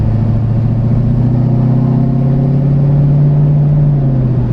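Modified Corvette ZR1 engine pulls under acceleration, a loud, steady droning growl whose pitch climbs gradually across the run without a clear break, heard alone inside the car.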